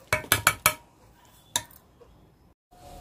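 A utensil clinks several quick times against a bowl while mixing bottle gourd fritter batter with water, with a fourth tap after a pause, then near silence.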